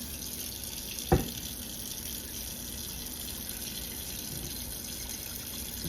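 Tap water runs steadily into a sink as drained cooked ground beef for chili is rinsed, a constant close splashing stream with one brief knock near the start; no talking.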